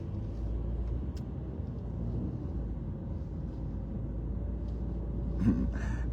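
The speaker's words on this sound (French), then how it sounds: "il y a tellement de voitures samedi" Heavy Saturday traffic of many cars passing on a city road: a steady low rumble of engines that hardly varies, heard from nearby, with a brief brighter clatter near the end and no talk.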